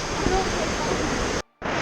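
Viento Fresco Waterfalls in Guanacaste, Costa Rica, pour as a steady, loud broadband roar that fills the clip, broken only by a brief dropout near the end.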